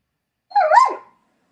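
A dog gives a single short bark, close, sharp and fairly loud, with silence before and after.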